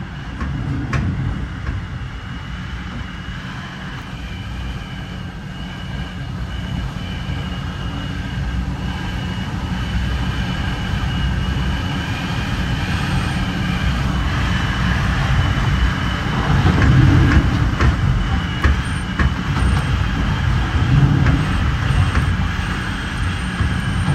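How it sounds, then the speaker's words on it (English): A long eastbound intermodal double-stack freight train rumbles past steadily near LaGrange, Illinois, a dense low roar with rattling and clanking that swells slightly in the middle, no voices. "Take an eastbound intermodal for intermodal train, stack train."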